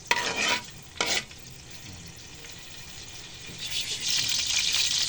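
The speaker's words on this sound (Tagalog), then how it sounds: "tumatisik na yung mantika" Hot oil spatters and crackles in a pan with garlic and onion for ginisang pakbet. Loud sizzling bursts stand out over a softer continuous frying hiss, then swell again near the end.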